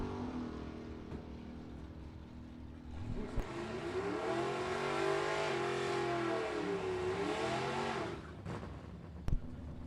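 Drag race launch between a Camaro SS and a Mustang in bracket racing: engines rise from a steady rumble into a loud roar around the middle, hold, then fade, with a sharp bang near the end.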